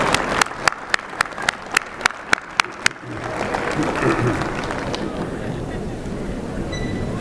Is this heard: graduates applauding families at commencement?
yes